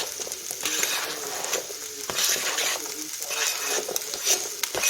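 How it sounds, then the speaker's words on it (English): Diced carrot is tipped into an Instant Pot and stirred in, giving soft scraping and patter with light sizzling. The sounds come in a few short bursts at moderate loudness, with no talking. "And in goes the carrots."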